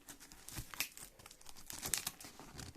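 Scissors cut through a taped cardboard box holding an air fryer, with tape stuck to sticky adhesive. Close crinkling, tearing and crunching scrapes come in short uneven bursts, with no talk.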